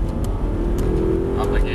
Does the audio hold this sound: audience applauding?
no